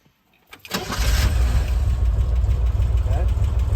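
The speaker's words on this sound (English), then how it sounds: "for the vehicle to start, you always make sure it's in neutral and the brake is on" A 1965 Chevy Corvair Monza convertible's engine cranks briefly and catches, settling into a steady, rumbling idle that carries on close by, with a person talking faintly over it.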